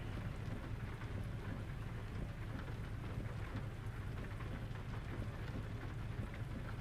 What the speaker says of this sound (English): and it was raining again